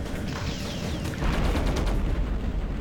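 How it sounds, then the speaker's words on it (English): Missiles strike the player's craft in the video game G-Police 2: Weapons of Justice, a dense run of loud, close explosive blasts and rattling impacts that swells and thickens midway and keeps pounding without pause. "they're hitting me with quite a lot of missiles"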